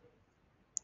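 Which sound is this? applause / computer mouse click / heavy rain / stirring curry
computer mouse click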